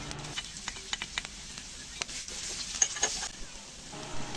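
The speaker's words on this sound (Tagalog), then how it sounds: "igisa muna natin ang bawang at sibuyas" Garlic and onion sauté in a pan for a home-style pork curry, giving a steady soft sizzle broken by scattered scrapes and taps from stirring, close and fairly quiet throughout.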